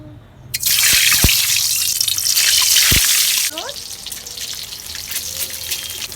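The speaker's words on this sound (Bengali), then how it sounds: "এখন আমি তেলটা দিয়ে দিব" Cooking oil poured into a pan for an egg and potato curry, a steady loud liquid stream and sizzle for about three seconds, then quieter kitchen sounds with a few drips, no one speaking.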